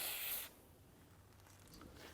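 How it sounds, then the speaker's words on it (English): A spray can of rust penetrant gives a short hissing burst onto the CV axle of a 2004-2008 Acura TL, close and fairly quiet, then cuts off to faint background noise. "go ahead and spray a little bit of rust penetrant in there as well"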